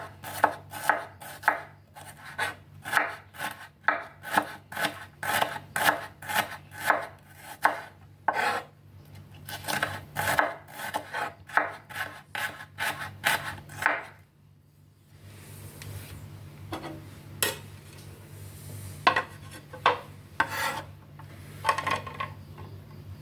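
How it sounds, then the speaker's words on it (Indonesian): Knife slicing thin shallots on a cutting board for a stir-fry of tempeh and bean sprouts, a close, fast, steady run of crisp chopping taps that pauses briefly, then returns as sparser, quieter cuts. "Ada 4 siung bawang merah, diiris-iris tipis"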